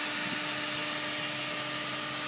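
The HSK63 spindle of a MultiCam 3000 Series 5x10 CNC router runs toward 18,000 RPM, giving a steady, loud, high-pitched whine over a broad airy hiss with no voices.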